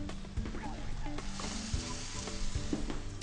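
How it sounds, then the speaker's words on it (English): Vegetables are tipped back into a pan of soft, saucy tomato while preparing caponata, setting off a steady close sizzle with a few sharp stirring knocks and scrapes throughout. "So we're going to add our other veggies back to the pan."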